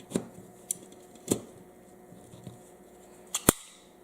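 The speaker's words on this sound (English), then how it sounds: "I'm going to take the loader made by MakerShot, and I'm going to try to load a 10 round magazine" Sharp metallic clicks from a MakerShot loader pressing rounds into a 10-round S&W M&P Shield magazine, a few scattered snaps with a louder double click near the end, close and alone.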